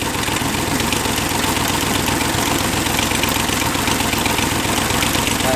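A Chevy 283 small block V8, torn down and running with one cylinder head, idles steadily with a continuous mechanical clatter from the pistons, loud and close, with no voices over it.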